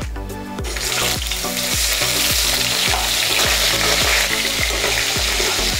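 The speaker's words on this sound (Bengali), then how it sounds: "এবার ভেজে নেব আমরা বেগুনগুলোকে।" Eggplant pieces fry in hot oil, giving a loud, continuous crackling sizzle with no break. Steady rhythmic background music pulses underneath the frying.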